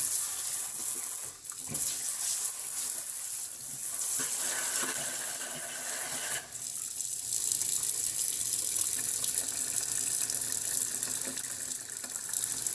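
Water runs and splashes steadily in a kitchen sink, leaking from a sprayer hose whose swivel O-ring has failed, a constant close hiss with a couple of brief dips.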